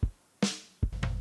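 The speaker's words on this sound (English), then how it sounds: "It's really overcompressed, just snare and kick." Punchy, squashed kick and snare hits play alone, each sharp attack followed by a pumping compressed tail, with a quick cluster of hits at the end.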